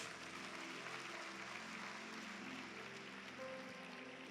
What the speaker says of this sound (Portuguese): Dê um aplauso bem forte, você que ama a palavra de Deus.